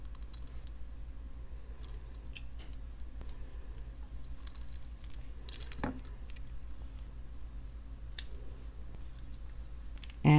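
Scissors cut stretch cord into three pieces for sparkly holiday beaded bracelets. A few faint, brief snips and light clicks sit over a steady low hum, with one sharper cut standing out midway.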